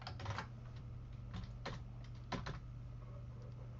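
Code being typed on a computer keyboard in Visual Studio, heard as quiet irregular clusters of key clicks close by over a steady low hum, with no talking.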